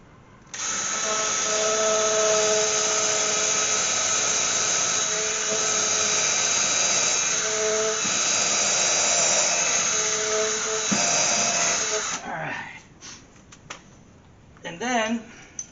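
A power drill bores a blind hole in a shop for a winch mount, a loud steady high whine running nonstop for about twelve seconds, then stopping and leaving quieter handling noises and a brief rattle.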